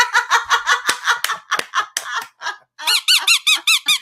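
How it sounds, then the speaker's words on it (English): A squeaky toy used as a sound effect gives a run of quick, bright squeaks in a bouncy rhythm, a short pause, then another fast burst of higher rising squeaks, loud and close with no talk. "Jeffrey gets a squeaky for that one."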